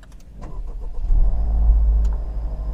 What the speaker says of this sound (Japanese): エンジンのスタート音は 静か